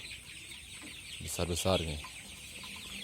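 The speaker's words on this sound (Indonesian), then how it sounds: "Ini ayam ulu ya, umurnya 22 hari." Young native chickens, 22 days old, cluck in a poultry pen, with a short burst of close chirping cheeps while someone speaks briefly over them.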